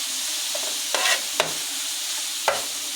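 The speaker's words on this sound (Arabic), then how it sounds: "ننزل برضو بعد الكبده عليها شويه بصل" Steady loud sizzle of liver frying in a pan with onions and peppers, punctuated by a few sharp scrapes and clinks of a utensil stirring, no voices.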